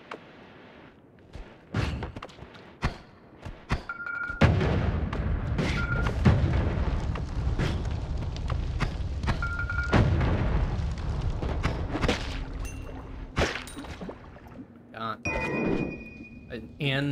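Repeated explosions from explosive spells in the game Noita, a string of sharp booms and crackling blasts with occasional chiming tones, loud and close, continuing through most of the stretch.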